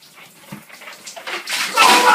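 Shower water runs during a prank, starting faint and swelling into a loud steady splashing spray toward the end.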